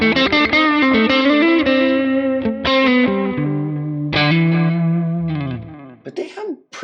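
Electric guitar played through an edge tone plugin on a Quad Cortex, loud and distorted with chorus and effects, ringing chords and single notes sustaining before a final bending phrase, with no talking.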